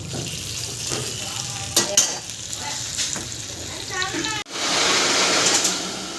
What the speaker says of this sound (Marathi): चला थोडीशी फ्राय केली आपली तव्यामध्ये मस्तपैकी अशी